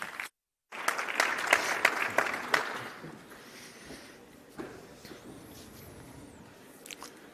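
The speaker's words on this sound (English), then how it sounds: "Please give them a big round of applause." Audience at a plenary session clapping together, loud at first with a crisp burst of many hands, then tapering and thinning to scattered faint claps.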